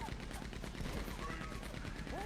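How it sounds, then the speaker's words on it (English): Heavy machine gun fire in the NoPixel roleplay game, a fast steady rattle of shots that is fairly quiet and mixed with other game sounds. "Oh my god, it is a huge machine gun"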